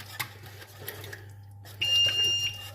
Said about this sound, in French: Ça c'est ma plaque qui fait du bruit.